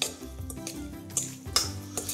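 Carrot and clementine salad being tossed in a bowl, dressed with olive oil, salt and pepper, giving close clinking and scraping of utensils against the bowl with soft wet stirring throughout, no voices.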